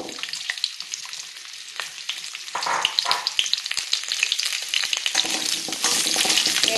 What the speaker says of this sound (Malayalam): എണ്ണ ചൂടായി വരുമ്പോൾ കഴുകി വൃത്തിയാക്കി വെച്ചിരിക്കുന്ന നെല്ലിക്ക അതിനകത്തിട്ട് നന്നായിട്ട് വഴറ്റിയെടുക്കാം.